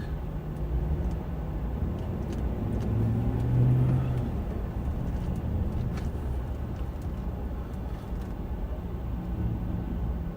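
Road traffic passing a patrol car on a city street near a high school, a steady close rumble of cars with one louder vehicle swelling past around the middle, no talk.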